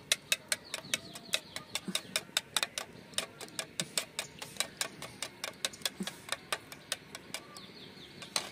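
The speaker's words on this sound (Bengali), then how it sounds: "এবার 3টে ডিম নিয়ে নিয়েছি, তার মধ্যে একটুখানি নুন দিয়ে দেবো অল্প করে, সামান্য অল্প করে। ভালো করে ফেটিয়ে নেবো ডিমটা।" Three eggs with a little salt are beaten briskly in a bowl, a fast run of sharp, even clicks and taps from the whisking, close and steady with slight pauses, no talking.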